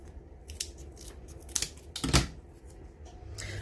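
A large lollipop stick is trimmed with scissors, giving a few sharp, close snips and clicks spread unevenly across a quiet background.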